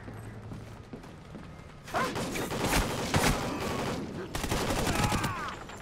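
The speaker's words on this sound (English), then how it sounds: "They are suppressing fire." Gunfire from a Call of Duty: Ghosts firefight erupts after a quieter stretch of mechanical creaks, with dense bursts of rapid suppressing shots and sharp cracks sustained over several seconds, loud and close.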